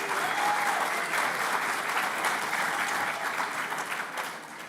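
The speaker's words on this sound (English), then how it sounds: "let's give a big cheer for the graduating class of 2026" Graduation ceremony crowd for a nursing and midwifery class cheering and applauding, a steady dense wash of clapping and shouts that holds loud throughout and eases slightly at the end.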